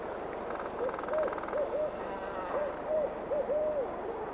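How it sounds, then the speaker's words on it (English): Barred owls hoot in a springtime courtship exchange, a series of clear, rising-and-falling calls repeated in short groups, fairly close against a steady woodland hiss. "While the pileated excavates, barred owl courtship is in full swing."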